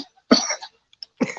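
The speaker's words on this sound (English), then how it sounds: "coughing in our ear right now" A person coughs in two separate bursts, the first a loud harsh cough with a short rasping tail, the second a shorter cough after a pause, close to the microphone with near silence between.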